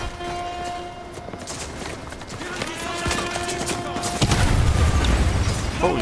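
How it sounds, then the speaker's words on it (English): Booming blasts and bursts of rapid gunfire rumble through a Call of Duty: Modern Warfare 2 Remastered game soundscape, with a steady tone underneath and heavier, louder explosions toward the end. "there's a lot of explosions going off"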